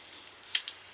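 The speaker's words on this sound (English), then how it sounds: "now using my True Control knife, just going to glide it" A quick, crisp scrape of a craft knife drawing around a wood blank on a glass mat, then a second shorter stroke; close and quiet against a hushed room.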